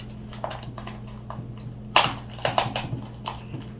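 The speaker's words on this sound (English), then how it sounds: "I've got my kitchen scissors and I'm going to cut this open" Kitchen scissors snip and crunch through plastic turkey packaging up close, a series of sharp irregular cuts and crinkles over a steady low hum.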